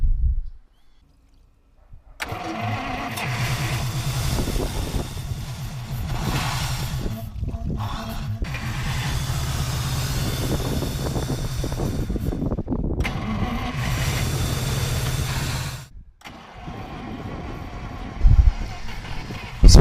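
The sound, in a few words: Soviet USSR truck engine starting and running after 39 years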